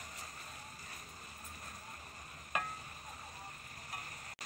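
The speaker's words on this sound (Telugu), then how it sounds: "లో ఫ్లేమ్లో పెట్టుకుని రొయ్యల్ని ఇలాగా ఫ్రై చేసుకుందాం." Prawns with a little turmeric fry over a low flame in a pan, a faint, even sizzle with a couple of brief scraping or tapping sounds and no speech.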